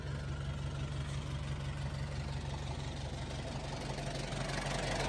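A Nissan Big-M pickup's diesel engine idles nearby with a steady low rumble and rhythmic clatter that stays even throughout.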